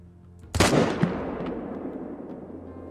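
A single rifle shot in a red deer hunting game, one sharp loud crack followed by a long rolling echo that fades slowly across open terrain, with no voices.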